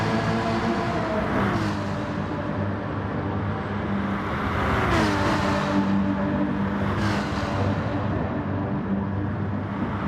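Racing car engines, including a Subaru, in a GT racing game on the Circuit de Sainte Croix, droning continuously with rising and falling revs as cars run bumper to bumper, steady and loud throughout.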